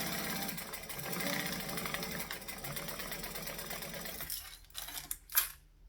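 A sewing machine stitches fabric coated with Odicoat, its motor a steady close whir for about four seconds before it stops, followed by a few soft clicks and handling sounds.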